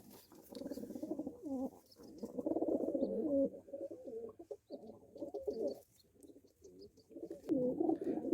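Domestic pigeons cooing in a village loft, a black female and white male pair with two chicks, giving repeated low throaty coos in overlapping bursts, close and fairly loud, with faint rustling between calls.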